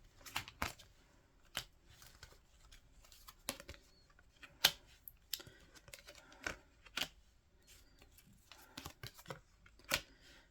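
Tarot cards shuffled and dealt out during a relationship reading, giving a quiet run of soft riffles, slaps and brief snaps spread irregularly, with several sharper card flicks standing out close to the microphone.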